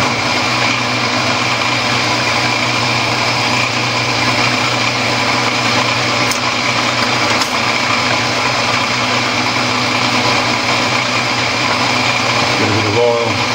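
A lathe runs steadily as a centre drill bores into scrap steel, a loud continuous high machine whine and hum lasting throughout, with a couple of faint clicks.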